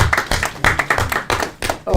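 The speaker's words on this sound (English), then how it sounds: "A round of applause once again." Clapping at a church service, a burst of claps from a small group heard close with a voice speaking over it in the gaps.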